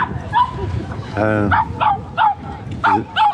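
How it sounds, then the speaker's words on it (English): A dog on Hampstead Heath in London gives a series of short, sharp barks at fairly close range, about six in quick succession, with one drawn-out whining yelp among them. "Barking dog."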